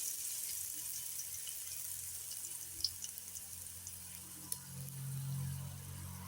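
Ginger-garlic paste sizzles in a pot over a village wood-fire hearth while chicken biryani is cooked: a soft, steady frying hiss with a few light clicks, fairly faint throughout.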